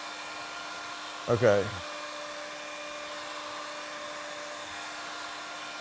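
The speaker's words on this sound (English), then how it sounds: "Put your heat gun a little closer." A heat gun shrinking window film gives a faint steady whirring hum throughout. A person speaks briefly over it.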